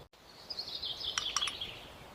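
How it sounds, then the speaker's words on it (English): Garden birds chirp and twitter faintly in the distance, a few brief tweets rising over a quiet outdoor background, with no one speaking. "We watch the birds together."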